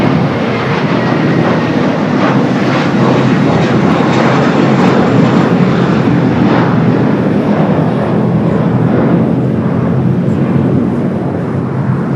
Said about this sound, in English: Now we got that minty fresh Dreamliner heading here to the south.